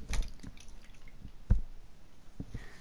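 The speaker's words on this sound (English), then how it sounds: "Oh, I dropped my water bottle on my head." A water bottle drops onto a person's head during a Call of Duty Modern Warfare 3 Zombies session, giving a close, soft thud with a small liquid slosh, followed by a few lighter drip-like knocks.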